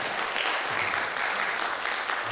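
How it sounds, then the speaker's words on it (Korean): Audience applause at a Korean book talk Q&A, steady dense clapping from a crowd throughout, moderately loud with no voices over it. "저 박수 좀 부탁드려도 될까요?"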